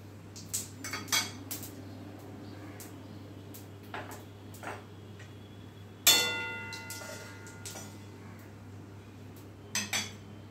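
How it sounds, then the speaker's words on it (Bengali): Whole spices, namely small cardamom, broken cinnamon and bay leaves, tempering as they are stirred in a kadai. Scattered close metallic clinks and scrapes of a utensil against the pan include one sharper clang midway, with no talking. "ফোড়নটা এই মিনিট খানেক মতো একটু নাড়াচাড়া করে নেব।"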